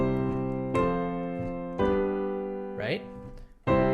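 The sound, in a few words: I IV V chord progression being played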